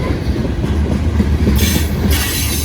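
A long freight train with a distributed power unit rolls past, heavy and loud. Its wheels rumble and clatter steadily, with bursts of high wheel squeal, and there is no talking.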